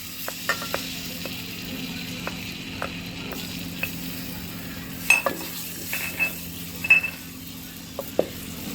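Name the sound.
garlic and ginger paste frying in hot oil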